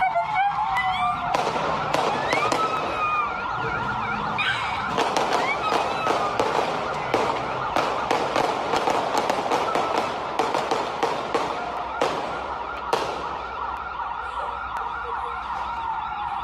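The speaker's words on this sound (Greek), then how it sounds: "Πριν πάμε στον Παναγιώτη Φωτεινό, να δούμε το ντοκουμέντο των στιγμών της καταδίωξης και των πυροβολισμών." Sharp gunshots crack repeatedly during a police chase in Perama, in quick irregular bursts. A wailing police siren runs continuously underneath, and a faint voice is briefly heard.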